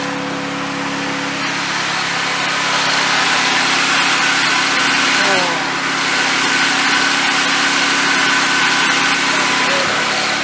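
Engine noise comes from a drift car with a damaged turbo, a loud steady high-pitched whine and drone over an idling engine, with a faint odd tone above it. It carries on for about ten seconds.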